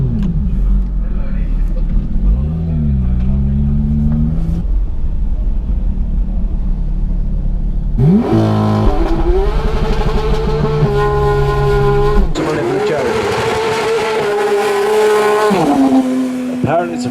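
An Aston Martin Vanquish and a GT3 race car climb a hill-climb course at a motorsport event, engines revving hard and rising in pitch through gear changes, loud and close, with a brief tire squeal.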